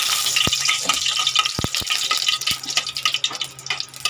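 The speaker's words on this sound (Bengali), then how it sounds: "আর এবারে আমি কড়াইতে আরেকটু তেল দেবো অল্পই তেল দিলাম কেন সব কিছু তো ভাজা আগে দেবো একটা শুকনো লঙ্কা ভাজা" Dried red chilli frying in a little oil in a wok, with a steady close sizzle and crackle plus a few sharp clinks of a utensil against the pan.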